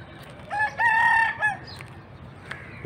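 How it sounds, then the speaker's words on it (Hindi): A rooster crows once, loud and fairly close, a drawn-out cock-a-doodle-doo with a brief cluck after, over quiet outdoor background. "ऊपर मुर्गा भी आजान दे रहा है।"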